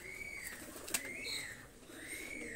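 Pakistani pigeons coo in soft, repeated rising-and-falling calls at close range, with a brief wing flutter in the middle.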